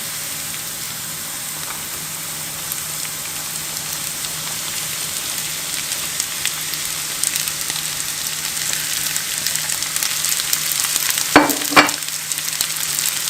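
Onions and pomegranate seeds sizzling in a pan, a loud, steady crackling fry that runs throughout, with a brief clatter of stirring near the end and no talking.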